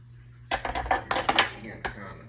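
A metal spatula clinks and scrapes against a pan while spreading pineapple sheet cake frosting, giving several close, uneven bursts of clatter after a quiet start, with a faint voice in the background.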